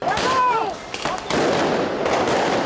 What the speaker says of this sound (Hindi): भीड़ पर जमकर आंसू गैस के गोले दागे गए।